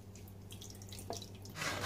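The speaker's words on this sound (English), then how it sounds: "So I'm going to add the coconut milk." Coconut milk trickles and drips into a lye soap mixture for a salt bar, a soft liquid patter near the mic that swells into a brief fuller pour at the end over a low steady hum.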